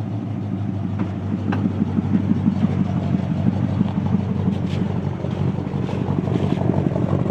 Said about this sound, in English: Listen to that rumble.